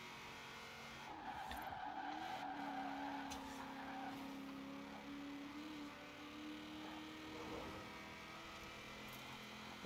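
In a Forza Horizon 4 race, a pack of racing cars skids with long tire squeals over droning engines, moderately loud, with sustained screeches rising and fading over several seconds.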